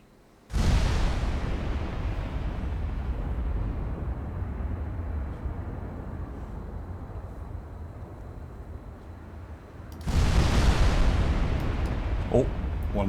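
High-explosive naval shells fired at a cruiser in a Scandinavian strategy war game. There is a sudden heavy boom, then a long rumbling roar that fades slowly, and a second loud blast near the end.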